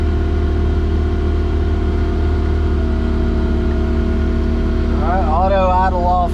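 A machine engine at full throttle with auto idle turned off while backfilling trenches, a loud, steady, close drone that holds constant, with a voice speaking over it near the end.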